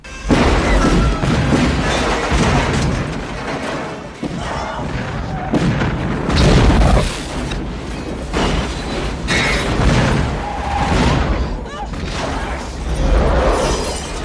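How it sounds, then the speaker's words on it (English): A film's action scene with a huge explosion: loud booming blasts, crashing and shattering debris and rumbling impacts in repeated heavy surges, dense and close, with a soundtrack beneath. "that's a hell of an explosion"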